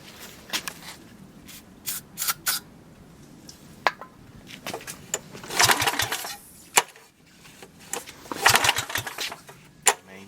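The engine of a 1966 Chevy C-10 pickup, primed with ether in the carburetor, is cranked in short, irregular grinding bursts, with quiet gaps and small clatters in between.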